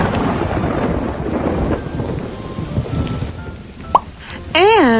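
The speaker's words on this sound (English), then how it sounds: "There was another lightning flash and another thunderclap." Thunder rumbles through a steady downpour of rain splashing on surfaces, loud and close. A brief whistling tone follows near the end.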